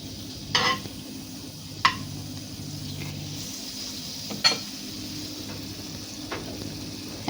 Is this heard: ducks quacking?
no